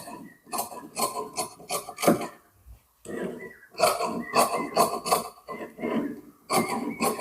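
Scissors snip through fabric being cut for a nightie in a series of close, crisp crunching cuts, with a brief pause before the snipping resumes.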